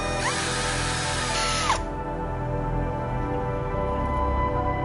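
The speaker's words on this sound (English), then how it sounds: "With the drill and a countersink, we'll reshape the tube hole this way." Power drill fitted with a countersink bit reshaping a hole in a tube, a loud high whine for nearly two seconds that stops abruptly, then a quieter steady mechanical hum.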